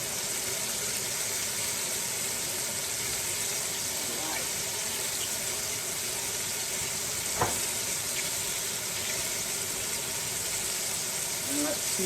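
Beef chunks for stew sizzle and fry in a hot pan, a constant crackling hiss with a few sharp pops and faint stirring clinks.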